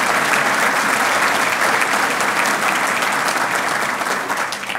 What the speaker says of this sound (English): another round of applause for everything they do for you